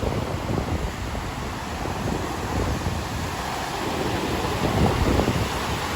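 Loud waves churn on open water near the US–Canada border while wind buffets the microphone, a constant broadband roar with no break.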